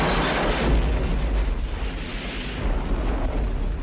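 A loud explosion rips out during a boat and jet-ski chase on a flammable river in the action film Double Dragon, a sustained roaring blast with deep rumble and crackling debris lasting several seconds.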